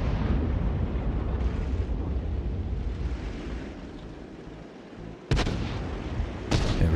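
Artillery gun in a tank video game firing: a continuous booming roar of cannon blasts and rumble, with sharp new shots bursting in near the end, loud and alone.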